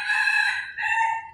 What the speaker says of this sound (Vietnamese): Gà rừng á, nó giờ gà rừng dùng hiếm lắm.